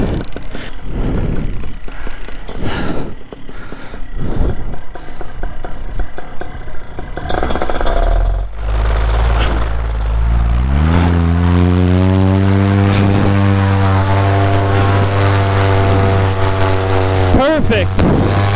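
A paramotor engine revs up for takeoff on a beach in Miami, rising from rough, gusty noise into a loud, steady droning buzz with a sustained pitch that climbs toward the end.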